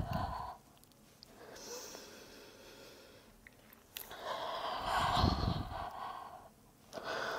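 Audible exhalations during a Pilates exercise with dumbbells, the breath pushed out in slow rhythm as the spine rounds and hollows, with breathy bursts near the start and middle and again at the end, close to the microphone.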